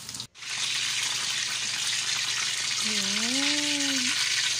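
Breadcrumb-coated chicken fries in hot oil in a pan with a loud, continuous, even sizzle; a short, wavering humming tone rises briefly over it near the end.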